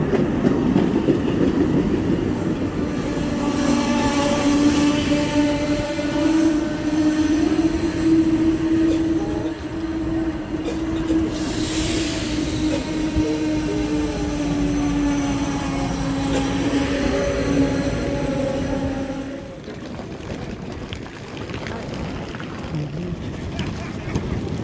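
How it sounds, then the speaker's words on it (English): Amtrak Empire Builder passenger train rolling on rails between Wisconsin Dells and St. Paul, a steady loud rumble with a sustained tonal hum, heard from aboard with faint voices in the background. "This is the same train as yesterday."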